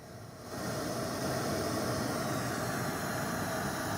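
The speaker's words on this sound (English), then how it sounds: "That is pink noise. And that's pink noise being measured acoustically coming out of the speaker into the environment." A loudspeaker plays pink noise into a room, a broad steady hiss that starts abruptly after half a second and holds at an even, loud level until the end.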